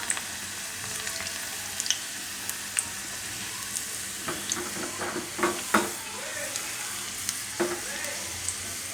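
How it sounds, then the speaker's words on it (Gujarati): Garlic sizzles in hot ghee for a Gujarati mustard greens dish, a steady close crackle with sharper pops and occasional stirring scrapes. "તો આ ઘી આપણે ગરમ થઈ ગયું છે. એમાં પહેલાં લસણ નાખીશું."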